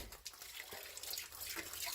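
A water pipe being tested on a water heater setup has its tap shut off, leaving faint running and trickling water with a few soft drips, quiet and close.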